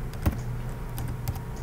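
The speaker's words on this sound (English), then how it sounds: "Let's just type in" Computer keyboard typing during a Linux Mint software install, a few sparse, faint key clicks over a steady low room hum.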